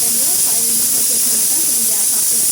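A pressure cooker on a gas stove vents steam through its whistle while cooking mutton curry with tender tamarind leaves: a loud, steady, close hiss that runs unbroken throughout, with a faint voice beneath it.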